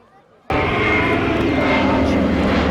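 A 1935 California-built civil propeller airplane flies at the Biscarrosse air show. Its engine roar bursts in suddenly and stays loud and close, a steady drone that fills the rest of the moment.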